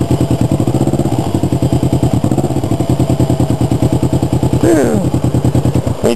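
A motorcycle engine held at high revs during slow riding on the clutch on a Taiwan road, throbbing in a fast, steady, loud pulse close by, with a voice briefly audible over it near the end.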